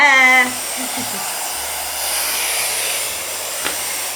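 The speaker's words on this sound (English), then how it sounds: "you can blow dry your hair on cool if you want, but They say blow dry it on high" Hair dryer set on high, blow drying curly, kinky 4c hair at home: a steady broadband airflow roar holds for the whole stretch, loud and close, with a short voice at the start and a low hum beneath.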